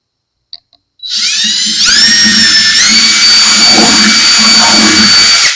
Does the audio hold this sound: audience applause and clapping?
no